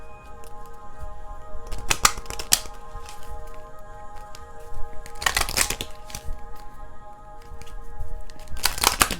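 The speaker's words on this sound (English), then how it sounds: "I gotta shuffle well." Tarot cards are shuffled by hand, producing several short bursts of riffling and snapping separated by quieter pauses, close and crisp.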